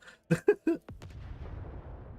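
Explosion in the video game Warhammer 40k: Rogue Trader, a sharp boom that rolls into a long, low rumbling tail, following a few brief voiced sounds.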